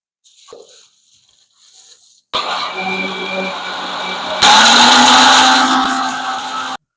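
A mixer grinder whirs loudly, grinding tomato, chili, coriander and mint paste for chicken biryani, starting abruptly and rising in pitch partway through before cutting off.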